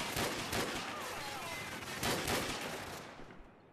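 Dragunov sniper rifle shots in Call of Duty 4: Modern Warfare, a few loud sharp cracks with broadband echoing tails, spaced roughly a second or more apart, with continuous gunfire and battle noise between them and no talking.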